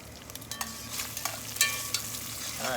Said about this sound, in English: Some grease popping there.